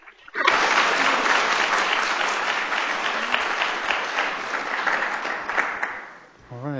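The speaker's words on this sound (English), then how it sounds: "Let's have a round of applause for our panelists" Sustained audience applause for the panelists at a law school panel event, a dense steady wash of many hands clapping that fades near the end.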